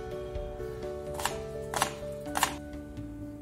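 Knife cutting fruit on a board while making fruit shrikhand, three distinct chops about half a second apart, quiet and close against a low kitchen hum.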